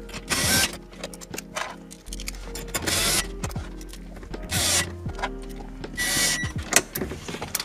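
Two bolts and two screws are driven into the dashboard of a 2019-2021 Toyota Land Cruiser, with close, intermittent bursts of a whirring driver and scraping, clicking hardware at an irregular pace.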